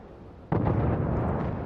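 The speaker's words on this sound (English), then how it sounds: "that is a good torpedo drop." Torpedo hits exploding in the World of Warships game, during German cruiser play: a sudden loud blast at about half a second, then a dense, rumbling roar of further detonations that stays loud to the end.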